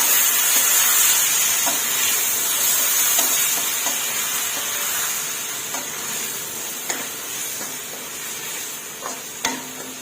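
Vegetarian mushrooms with holy basil stir-frying in a pan with Maggi seasoning sauce, a loud continuous sizzle and hiss with occasional scraping stirs of a spatula, close up.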